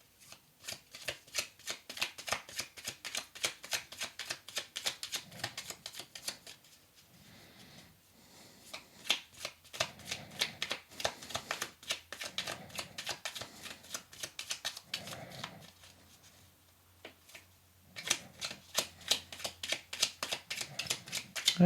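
Oracle cards shuffled by hand for a card reading, crisp riffling bursts repeated in quick runs with short pauses between, close and fairly quiet.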